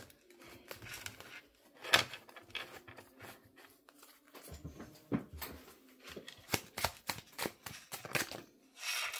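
Oracle message cards shuffled by hand in quick papery riffles and soft slaps, close and clear, in a quiet room with no talking.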